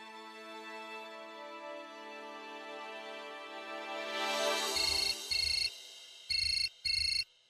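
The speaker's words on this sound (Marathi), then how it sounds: "अहो फोन वाजतोय." A telephone rings in a room during a Marathi TV serial scene, with background music fading as four short electronic ring bursts sound in pairs near the end.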